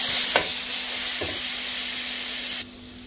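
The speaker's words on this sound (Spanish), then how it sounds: "voy a freírla un ratito y le agregué una cucharada de ajo." Onion and a spoonful of garlic frying in a pan, a loud steady sizzle with two soft stirring knocks, cutting to a quieter hiss near the end.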